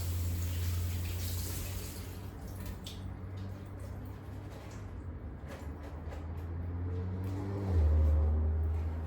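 Corn is rinsed under a running kitchen tap, giving a soft, continuous hiss of flowing water over a low background hum, faint and steady with a slight swell near the end.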